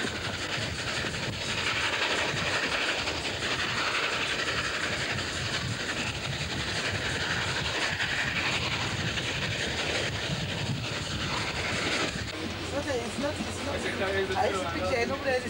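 A 15th class steam locomotive built by Beyer Peacock in Manchester runs on rails near Bulawayo, a steady rumbling rush with hiss and clatter that shifts to a rhythmic clank near the end, under a narrating voice.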